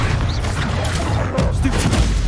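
Dense rumbling blasts and crackling impacts from a Confringo spell explosion in the Hogwarts Legacy video game, a loud continuous barrage with a deeper boom near the middle.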